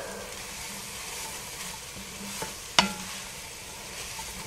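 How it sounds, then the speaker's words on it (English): Potatoes stirred into a pot of cheddar broccoli soup, a soft steady sizzle and scrape running throughout with one sharper clack of the spoon against the pot partway through. "We're going to add all of our potatoes. Let's give this a mix."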